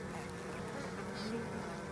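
Honey bees from a newly installed package buzz as a steady, close drone with no pauses, filling the full two seconds while faint background noise sits underneath.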